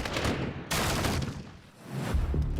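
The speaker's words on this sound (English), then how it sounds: "Suddenly, the sound of explosions and shattering glass echoed from all sides of the building." A sudden heavy blast erupts as special forces breach the Dubrovka Theater, followed by a rush of crashing, crackling debris and shattering glass that fades and then swells again.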